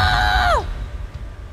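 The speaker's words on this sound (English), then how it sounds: "Scare me with your scream." A martial arts student lets out a loud fighting yell up close, one sustained shout that bends downward and cuts off after about half a second, followed by quieter room noise.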